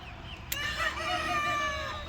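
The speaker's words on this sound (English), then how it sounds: "now they're all starting to crow" Several roosters crow together inside a backyard chicken coop, overlapping drawn-out calls at steady loudness over faint background clucking, with no talk.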